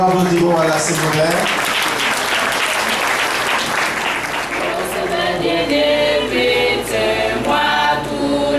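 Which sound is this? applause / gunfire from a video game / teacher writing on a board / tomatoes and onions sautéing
applause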